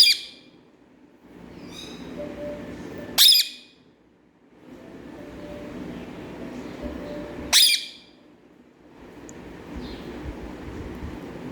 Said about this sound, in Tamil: மயில் கத்தணுன்னே உனக்கு சவுண்டு கொடுத்துக்கிட்டே இருக்கணும்